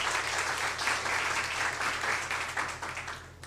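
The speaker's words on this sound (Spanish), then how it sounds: "dele un aplauso al Señor" A church congregation applauds steadily for several seconds in a hall, the clapping easing slightly toward the end.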